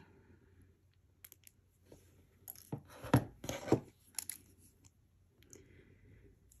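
Beading wire trimmed while making a braided herringbone-style beaded ring: two crisp, close-up snips about half a second apart, surrounded by soft handling rustles and light clicks, with no talking.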